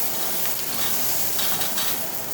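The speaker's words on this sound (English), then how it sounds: "Saute that for a second." Garlic sautéing in a hot pan for chicken cacciatore gives a steady, even sizzle with a faint hiss throughout and a few light scraping touches. There is no talking.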